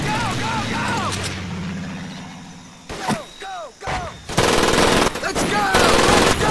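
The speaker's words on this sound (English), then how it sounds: "Someone get on that machine gun!" Rapid machine gun bursts mix with battle noise in the WWII Pacific shooter Medal of Honor Pacific Assault during a night attack, loudest in the final seconds, with shouted soldier voices and whistling sounds throughout.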